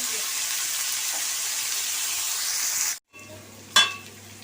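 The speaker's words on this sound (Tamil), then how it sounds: "இதை நல்லா ஒரு 2 நிமிஷம் வதங்கி வரட்டும்." Ingredients for pasta sauté in a hot pan, a steady close sizzle for about three seconds that cuts off, followed by a quieter hum and a brief clatter.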